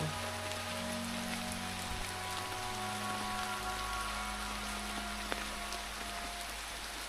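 Heavy rain pours steadily in a forest at Bhitarkanika in India, a dense continuous hiss of drops on leaves and surfaces with a low rumbling undertone, close and unbroken, with no voices.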